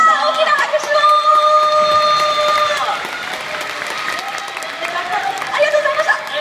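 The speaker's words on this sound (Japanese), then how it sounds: "大きな拍手を。" Sustained audience applause at a live J-pop band concert on stage at the U-FES 2015 UUUM SUPER LIVE, with dense clapping and crowd chatter while sustained tones ring out over it.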